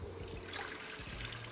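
Water pours into a blender in a short steady trickling splash, close and soft, with no talk over it.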